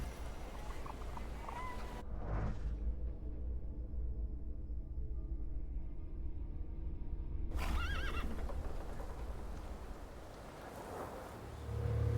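A horse in the video game The Thaumaturge whinnies loudly at close range while hooves clop, the neigh rising sharply, then a quieter stretch before renewed hoofbeats and movement noise.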